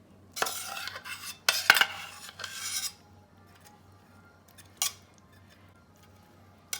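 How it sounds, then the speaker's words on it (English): Steamed broccoli added to a vegan tofu dish, heard as a few scraping, rasping strokes of a utensil against a pan or bowl, then isolated short scrapes amid near silence, close and moderately loud. "So you're adding the steamed broccoli, right?"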